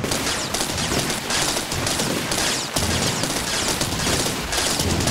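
Rapid cannon fire from vehicles in the building and combat game Terra Tech, a dense continuous barrage of loud overlapping shots that runs without pause for several seconds, with no talking over it.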